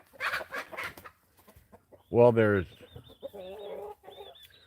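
Farmyard chickens, including Brahma hens and a rooster, give a loud, drawn-out squawking call up close, set between stretches of nearby conversation and softer clucking.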